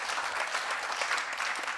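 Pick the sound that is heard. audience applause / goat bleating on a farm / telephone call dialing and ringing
audience applause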